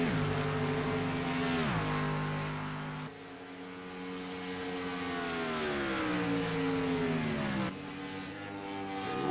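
Race cars at Las Vegas Motor Speedway roar continuously, engine pitch sweeping down and up as cars pass through turns and shift gears, loud and steady with no voices.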